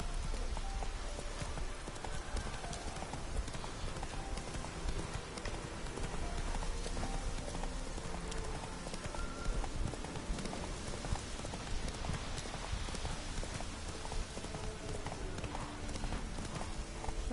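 Horse hooves gallop continuously in The Witcher 3, a dense rapid drumming layered with a rain-like hiss that stays loud and even throughout.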